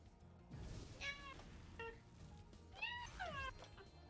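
A human voice mimics a cat with several meows: one near the start, a short one midway, then a longer drawn-out pair. The calls are close and clear over low background noise while playing Spyro Reignited Trilogy.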